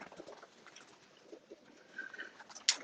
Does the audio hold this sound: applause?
no